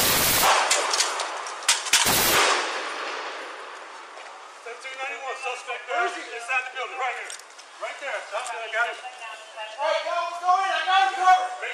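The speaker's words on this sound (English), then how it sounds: "The male officer with the long gun fires one shot" Police gunfire, including shots from an officer's long gun, rings out as a quick cluster of loud, sharp bangs in the first two seconds, followed by someone talking over a quiet background.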